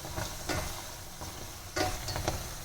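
Cylindrical pastry sizzling and crackling in hot oil in a pan while being turned, a dense continuous fry noise with occasional louder scraping stirs, close and alone without voices.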